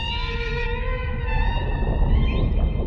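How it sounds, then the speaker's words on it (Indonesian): A recording of whale song played through an underwater loudspeaker to lure a megalodon: long, drawn-out tonal moans that slowly bend in pitch over a deep, rumbling underwater backdrop. "menenggelamkan rekaman suara ikan paus dengan pengeras suara"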